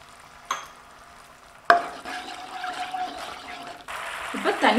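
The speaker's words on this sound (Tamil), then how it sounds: "இப்போ தண்ணி சேர்த்து நல்லா கொதிச்சு வருதுங்க" A honey cauliflower sauce of dark soy sauce and added water boils in a pan while being stirred. Close bubbling, sizzling and scraping come in uneven surges.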